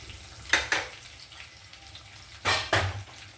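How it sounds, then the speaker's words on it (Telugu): Capsicum and peas drop into a hot curry pan in two pairs of sharp sizzling bursts, each flaring loudly before settling back to a soft, steady frying hiss. "చూడండి, క్యాప్సికమ్ వేస్తున్నాను, బఠానీ వేస్తున్నాను."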